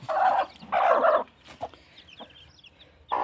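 A hen clucks close by among newly hatched chicks, two loud bursts of clucking, then faint high chick peeps through a quieter stretch before another cluck at the end.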